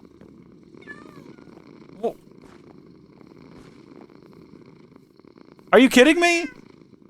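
A cat in the Minecraft video game purrs in a low, steady rumble that runs the whole way through, while someone speaks briefly near the end.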